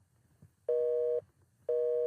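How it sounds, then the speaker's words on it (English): A telephone busy signal pulses, two identical loud steady beeps about half a second long separated by short silent gaps, clear and close. "It's busy."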